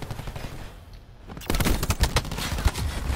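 Rapid bursts of automatic gunfire in Call of Duty Black Ops 4 multiplayer, loud and close, kicking in after a short quieter stretch and continuing as dense rattling volleys.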